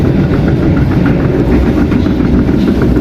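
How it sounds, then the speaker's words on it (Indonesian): Trains pass at an Indonesian station near Jatinegara, a loud, close rumble with rhythmic clickety-clack of wheels over rail joints for a few seconds, no voices. "Ini ada kereta api ya, banyak."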